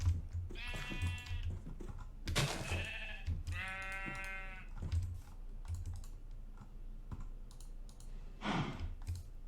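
Sheep in a farming video game bleat several times in short, tonal bursts, a couple overlapping, alongside soft key clicks, with no talking.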